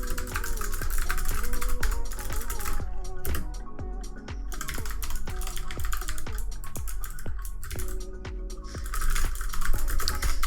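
Loud, clicky mechanical keyboard typing, a rapid rhythmic run of sharp keystrokes close up, with brief pauses between bursts and no talking.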